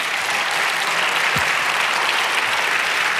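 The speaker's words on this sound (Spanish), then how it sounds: "Denle un aplauso otra vez" A church congregation applauds after a sermon, producing dense, steady clapping that fills the room evenly from start to finish at a strong, unbroken level.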